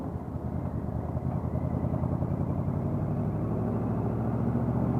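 A Yamaha RS Venture snowmobile engine runs steadily close by, a continuous low rumbling drone that holds even and unbroken throughout, with no voices.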